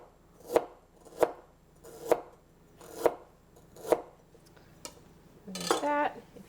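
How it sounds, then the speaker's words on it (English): A knife slices fresh ginger on a cutting board with five distinct, evenly paced chops, close and clear. Fainter taps follow, then a short clatter of utensils. "So you just tuck your fingers under just like you do with many other vegetables, aromatics, and fruits that we chop, and make slices"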